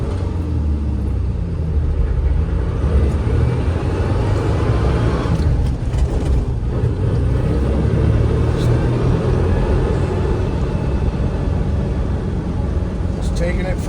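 A 1984 Ford Bronco II trail rig that sat unused for years rumbles steadily through a neighborhood, its engine and road noise a constant low drone throughout with some cabin rattle.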